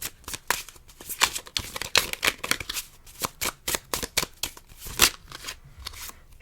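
Tarot cards are handled, shuffled and drawn from a deck. Rapid, close papery riffling and flicking bursts follow one another in an uneven rhythm for several seconds, with no talking.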